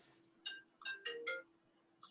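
A mobile phone ringtone plays at moderate volume, a bright melodic pattern of four or five tonal chime notes rising and falling over a steady low hum, with a final fainter note near the end and no talking.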